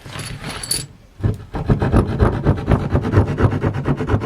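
A prehistoric-style flint blade cuts a tree branch: a brief rasp, a pause, then a rapid run of scraping, sawing strokes, loud and close with no talk.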